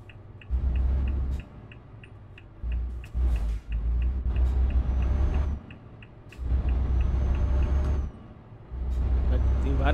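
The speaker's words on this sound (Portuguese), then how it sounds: "Som do caminhão também tá top, hein?" A heavy MAN TGX truck engine in the video game Euro Truck Simulator 2 rumbles in repeated low bursts that swell and cut off, with occasional clicks and a voice talking in the background.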